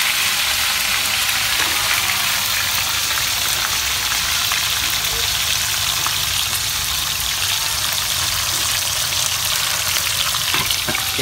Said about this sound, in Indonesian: Nah, kita goreng dulu.